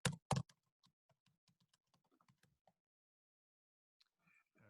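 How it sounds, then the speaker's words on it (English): Typing a password on a computer keyboard: a couple of louder opening thumps, then a quiet, steady run of close individual key clicks, a pause of near silence and a few final taps. "have to enter the password again"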